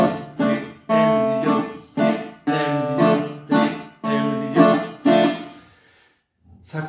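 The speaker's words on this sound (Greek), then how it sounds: "Αυτός είναι ο ρυθμός, ο τρόπος με τον οποίο συνοδεύουμε ένα βάλς." Laiko waltz accompaniment on a plucked string instrument in steady three-beat groupings, strong bass note followed by two lighter chords, repeating clearly and alone before a brief pause and restart.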